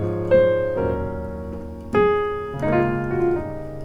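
Three piano chords in a 2-5-1 progression struck one after another, each ringing briefly and decaying, played alone with nothing else around them.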